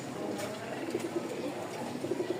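Rajshahi Giribaj pigeons, a light biscuit-coloured pair, coo softly in short repeated throaty phrases, fairly quiet against a low background hum.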